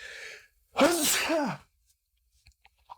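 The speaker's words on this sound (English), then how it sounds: "You just watched me sneeze." A single loud, close sneeze with a breathy rush, preceded by a brief intake of breath and followed by quiet.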